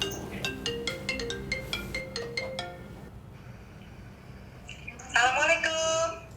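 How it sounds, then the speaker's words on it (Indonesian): A phone ringtone plays a repeating melodic pattern of short tones for about three seconds, followed by a person's voice speaking briefly afterward. "Bentar, ibu telepon."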